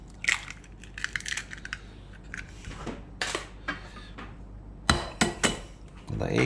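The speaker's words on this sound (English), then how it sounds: "Into that I crack 2 eggs" Two eggs cracked into a saucepan of cooked mince for sausage rolls, heard as a few sharp taps and cracks in a quiet room, with a last cluster of crisp knocks near the end.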